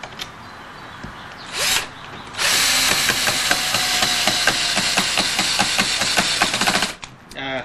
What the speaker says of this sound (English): It's kind of hard to hold the camera and run the screw gun at the same time.